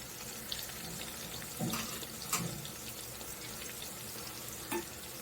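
Onions and curry leaves fry steadily in a pan with a constant crackling sizzle, broken now and then by brief stirring scrapes, close and moderately loud with no talking.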